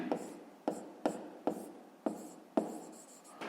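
A pen scratches on paper as a fifth-grade maths exercise is written out, a series of about eight short strokes in an uneven rhythm, close and clear, with no talk over them.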